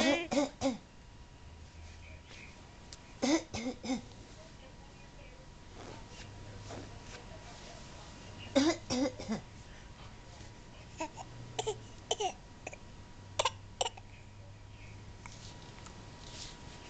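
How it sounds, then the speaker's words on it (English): A toddler who has a bad cough gives a few short coughs and throat-clearing bursts spread across the clip, near and fairly soft, with quiet babbling and low background hum between them. "Show me your cough once more."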